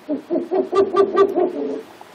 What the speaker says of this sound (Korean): 다른 긴 전박이 올빼미의 울음소리를 들려줍니다.